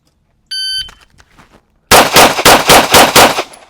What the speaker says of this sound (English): Let me show you what a couple of these things look like when I'm shooting live ammo.